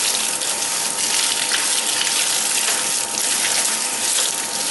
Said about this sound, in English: This seems kind of hard, sticking a gun under running water